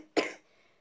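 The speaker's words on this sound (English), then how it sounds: "So I might be coughing throughout this video sometimes." A single short cough, close and fairly quiet, fading quickly into silence.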